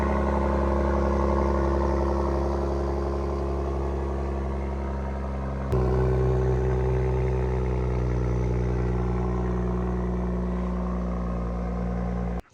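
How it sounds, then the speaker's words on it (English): An Ineos Grenadier truck's engine idles close by, a steady low rumble with a mechanical clatter, briefly shifting pitch midway as the revs change before cutting off abruptly at the end. "I'll give you some sound clips here of the truck running."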